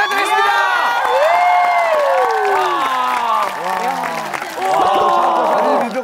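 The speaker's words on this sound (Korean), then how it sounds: "앞에서 보여주신 분들에게 함성과 박수 부탁드리겠습니다" A TV studio audience cheering and applauding, with loud whoops and high shouting voices over dense clapping that dips briefly and then swells again.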